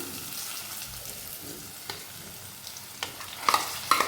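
Raw mango and garlic stirred in a pan, with a steady soft sizzle and a few sharp spoon scrapes near the end; no one talks.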